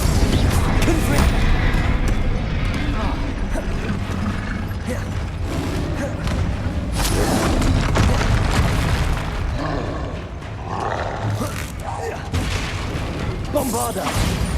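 Hogwarts Legacy spell blasts from Bombarda and Confringo, booming explosive impacts and crashing magical bursts in a dense, continuous combat din, with shouted incantations over the top.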